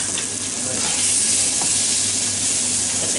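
Chopped onion sizzles steadily in a hot pan for beef stew, a continuous close frying hiss with faint stirring scrapes, no talking.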